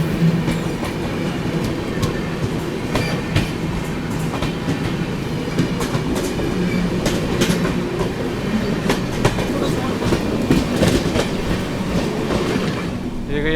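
The 12650 Karnataka Sampark Kranti Express passing close by, a loud, continuous rumble with rapid rhythmic clickety-clack of wheels over rail joints and occasional squeals, heading toward Hazrat Nizamuddin.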